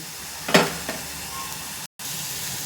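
Small parige fish sizzle in a hot pan of frying onions, a short burst of crackling as they go in, then a softer steady sizzle that continues at close range, with no voices.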